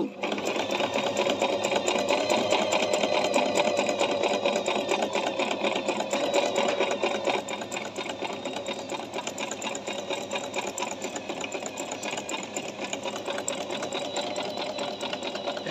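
A Singer 1408 digital sewing machine stitches a decorative design with a fast, steady mechanical whir and needle chatter close by. It grows slightly quieter partway through and keeps running without a break.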